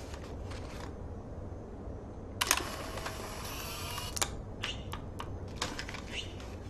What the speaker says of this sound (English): Make sure you look in the mirror and then take a selfie, and you'll get your 6th optional photo.